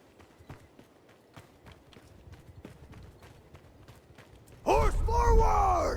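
Horses galloping in the medieval battle game Mount & Blade 2 Bannerlord, rapid rhythmic hoofbeats drumming steadily before a loud surge of cavalry charge noise and shouting takes over near the end.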